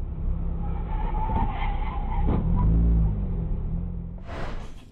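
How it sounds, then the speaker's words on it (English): Tyres skid and squeal as a car spins out after a strong gust of wind flips up its hood, a loud sustained screech over engine noise that fades near the end. "A car spins out after a strong gust of wind flips up the hood of the car"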